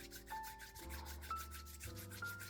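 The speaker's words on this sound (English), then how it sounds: "you can kind of like rub your hands together" Two hands rub briskly together to warm up before self ear reflexology, making a steady, rhythmic swishing friction under soft background music.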